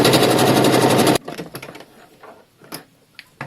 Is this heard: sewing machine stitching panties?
yes